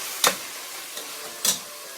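Biryani mixture stirred in a pot over a steady low sizzle, with two distinct scraping strokes about a second apart and a fainter touch between them, close and moderately loud.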